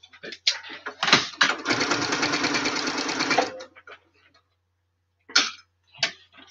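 A sewing machine runs in a steady, fast stitching burst of about two seconds while quilting a Christmas quilt, close and clear, with a few short thumps and handling noises before and after.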